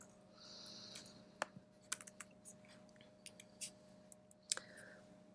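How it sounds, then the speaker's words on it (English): Code is typed on a computer keyboard in a quiet room, a close, faint run of irregular key clicks and taps with short pauses, alongside a steady low electrical hum. "I'm going to be typing in with you"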